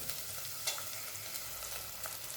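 Potato sautéed into spiced rice with peas and tomato for masala bhat gives a soft, steady sizzle with faint stirring scrapes throughout, quiet and close, with no talk.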